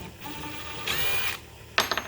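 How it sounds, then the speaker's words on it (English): A power drill running in reverse to back a screw out of a workpiece, with a short whirring burst followed by a quick series of sharp ratcheting clicks, close and alone. "We're gonna back the screw back out."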